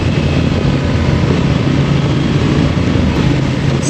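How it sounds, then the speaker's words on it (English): A 2024 Honda Transalp motorcycle rumbles with a steady, growly exhaust note while riding over bumpy, wet, mucky ground, loud and close, with constant broadband wind and engine noise and no speech. "But I like the exhaust note. I like the sound of it."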